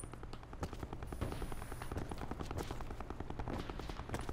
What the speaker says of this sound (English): Someone's literally just full autoing right now.